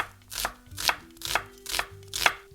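A knife julienning an onion on a cutting board gives five evenly spaced, crisp chopping strokes in a steady rhythm, close and clear with no talking.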